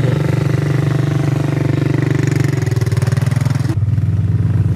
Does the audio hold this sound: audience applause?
no